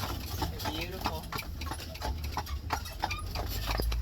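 Amish buggy horses named Seb and Jasper clip-clop along at a steady trot in Bird-in-Hand, Pennsylvania, their hooves sounding as repeated sharp taps under constant road rumble while people talk nearby.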